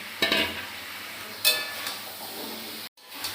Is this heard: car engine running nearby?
no